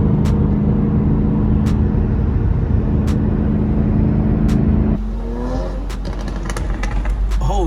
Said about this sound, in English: Oh dude, that was a Supra. That was a 2020 Supra.